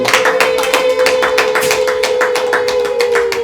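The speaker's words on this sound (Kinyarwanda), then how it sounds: "Muhampera amashyi cyane." Steady crowd applause, loud and continuous, with dense overlapping claps and a sustained tonal hum running beneath.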